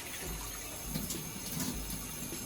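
Water poured by the cup into a pot of Puerto Rican rice with pigeon peas, a steady close splashing stream filling the cookware without any talk.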